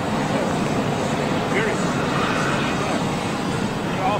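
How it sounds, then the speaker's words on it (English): Etihad airliner taxiing at Schiphol airport, a steady broadband engine rumble and hiss that holds at an even level throughout, heard from a distance outdoors. "Etihad's on its way round."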